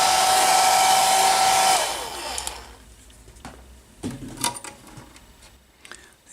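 A heat gun blows hot air onto a vinyl sticker on a Tamiya Lunchbox body, a loud steady whirring hiss for about two seconds, then it cuts off, leaving faint handling clicks and rustles.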